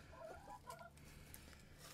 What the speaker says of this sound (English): the hens are all at my feet because they gotta be in anything I'm doing